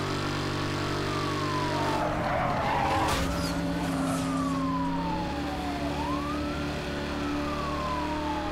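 Loud car engine from the racing game Need for Speed Hot Pursuit Remastered, roaring and shifting pitch throughout with siren-like sweeps and skidding tyres, steady and close with no talk.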